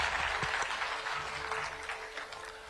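Audience applause at a TV9 Network event attended by Pandit Dhirendra Krishna Shastri of Bageshwar Dham, steady but fairly faint clapping from a crowd sustained throughout, with no clear talk over it.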